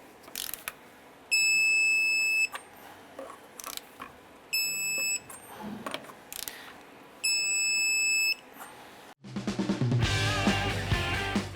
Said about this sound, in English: Let's go ahead and torque down the lug nuts to 135 foot-pounds.